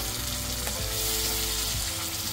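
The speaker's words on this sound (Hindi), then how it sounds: "अब इसमें डालेंगे हम ये टमाटर की प्यूरी" Ground tomato puree from two tomatoes hits a hot pan of shakshuka base and sizzles loudly and steadily, a dense frying hiss with a few stirring scrapes, close and alone without talk.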